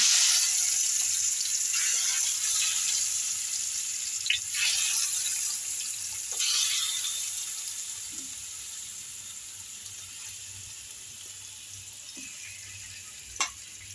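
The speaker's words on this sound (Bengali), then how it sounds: "আমি মাছগুলো ভেজে নিচ্ছি" Tilapia fish fries in a pan with a steady, loud hiss and sizzle, broken by occasional sharp pops and spatters of oil.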